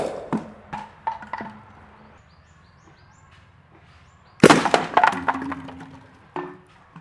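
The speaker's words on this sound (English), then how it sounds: "Now let's try shooting these soda bottles." A homemade launcher fires soda bottles: scattered sharp clicks and snaps give way after a quiet stretch to a sudden loud burst of cracks and clattering impacts, then a couple of short knocks.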